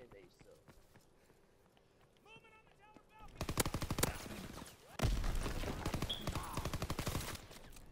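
Rapid bursts of PPSh submachine gun fire in a WW2 shooter game, loud sustained automatic volleys after a quieter opening with faint game sounds and a player talking.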